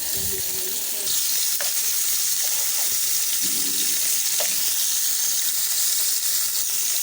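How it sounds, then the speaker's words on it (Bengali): Turmeric- and salt-rubbed rohu fish frying in hot oil in a pan, a steady broadband sizzle heard close up with a few soft clinks and scrapes. "তেল গরম হয়ে গেছে দিয়ে দিচ্ছি রুই মাছ লবণ হলুদ মাখানো রুই মাছ মাছটা আমি ভালো করে ভেজে নেব"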